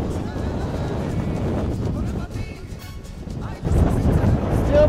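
Strong wind whips past while skiing in the mountains of Chile, a loud roaring rush buffeting the microphone with a brief lull midway before a harder gust returns.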